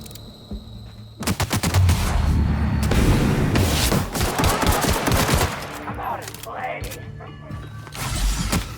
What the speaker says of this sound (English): Machine guns are messing me up